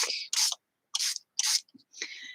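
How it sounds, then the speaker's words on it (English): Several short hissing spray bursts from a spray bottle of color, close and separated by brief pauses, with a few faint clicks between them. "So I'm just going to give him a spray with some color on the front and on the back."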